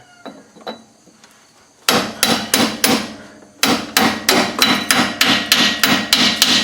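A hammer taps a pinion seal into place on a 2001 Ford Explorer Sport Trac, a few light hits at first, then a run of firm, quick, evenly spaced metallic blows close by.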